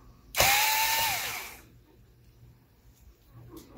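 A small electric screwdriver whirs briefly while removing a screw from a Lenovo Ideapad Flex 5 laptop, a single close burst with rising pitch, then quiet handling.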